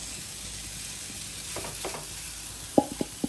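Chicken dropped into masala in a hot pan, sizzling quietly as a utensil stirs, ending with a few distinct close scrapes and knocks.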